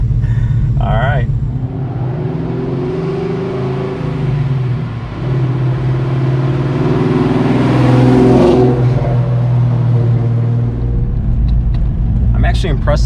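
A Coyote V8-swapped 1985 Ford Mustang notchback accelerates, deep exhaust rumble swelling into a loud rising roar heard from inside the car, with voices talking over the engine at times.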